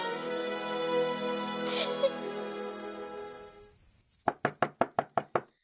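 Seven sharp knocks on a door land in quick, even succession near the end, loud and close, following a sustained dramatic music swell in a historical Hindi TV serial scene.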